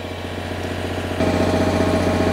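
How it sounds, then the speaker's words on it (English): An MEP 1040 generator engine runs at a steady idle, then its tone steps up abruptly and grows louder as the governor takes on load, a continuous mechanical drone with no talking. "the governor adjusts the engine for load"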